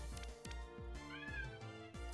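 Cat creature in the video game Coromon, a short run of sharp rhythmic game blips with a rising meow in the middle, heard alone.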